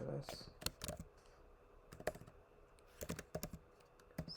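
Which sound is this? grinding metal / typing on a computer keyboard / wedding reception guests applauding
typing on a computer keyboard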